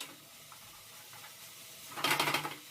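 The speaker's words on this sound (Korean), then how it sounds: "자 이렇게 볶아줍니다" Spicy pork is stir-fried in a pan at home, a faint low hiss under quiet room noise, then a short louder burst of sizzling and scraping near the end.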